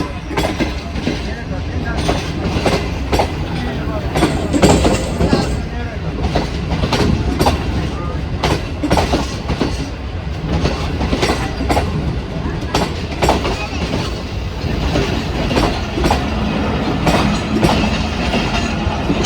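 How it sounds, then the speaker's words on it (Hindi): A passenger train rolling slowly out of a station, with a steady heavy rumble, rhythmic clickety-clack of wheels over rail joints and occasional squeal, close and loud throughout while voices talk underneath. "अभी हमारी ट्रेन जो है ना रवाना हो चुकी है, आस्ते आस्ते भी जा रही है"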